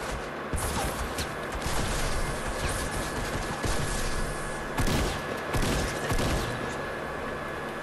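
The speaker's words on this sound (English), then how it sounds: "Shots firing." Rapid gunshots in Fortnite Battle Royale's 50 vs 50 mode crackle in scattered bursts over a steady game backdrop, with sharper reports standing out near the middle.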